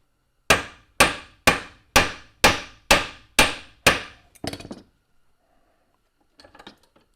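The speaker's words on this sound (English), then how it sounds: "you just take a piece of copper wire, beat it with a ball peen." A ball peen hammer beats a piece of copper wire with eight sharp, evenly spaced metallic strikes, followed by a few softer clattering taps and then near silence.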